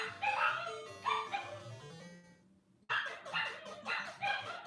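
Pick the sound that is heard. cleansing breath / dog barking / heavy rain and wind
dog barking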